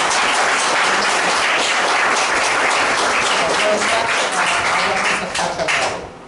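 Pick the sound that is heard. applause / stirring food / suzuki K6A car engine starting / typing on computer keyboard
applause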